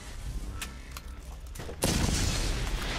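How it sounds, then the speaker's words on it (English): Rocket launcher blasts in the co-op shooter Borderlands: a few sharp bangs followed by a sudden loud, sustained explosive roar, close and heavy, with no talking. "Who's shooting giant rocket launchers?"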